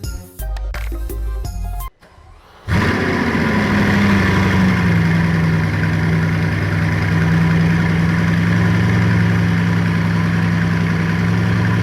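A Bugatti Chiron sits idling with its exhaust close by. After a few brief revs and a short pause, the engine settles into a loud, steady, deep rumble that holds unbroken to the end.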